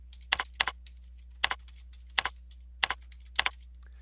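Typing on a computer keyboard: short bursts of crisp key clicks, mostly in pairs, spaced about every half second to second against a quiet background hum.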